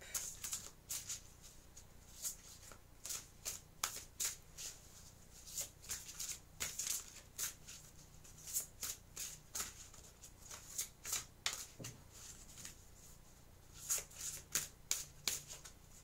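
A deck of oracle cards is shuffled by hand in repeated crisp riffles and flicks. The close, soft, papery bursts come in an uneven rhythm with no talking.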